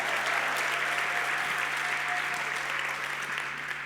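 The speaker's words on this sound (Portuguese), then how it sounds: "a gente pode dar um forte aplauso ao Senhor" Loud applause from a church congregation at a Sunday service, a sustained dense wash of clapping over a low steady hum, easing slightly toward the end.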